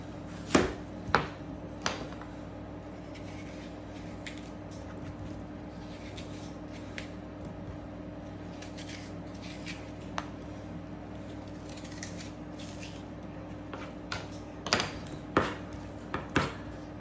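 A knife cuts apples in half on a board, giving a few sharp, close knocks at the start and a cluster of chops near the end, with a quiet kitchen hush between them.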